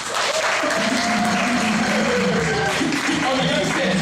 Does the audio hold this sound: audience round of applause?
yes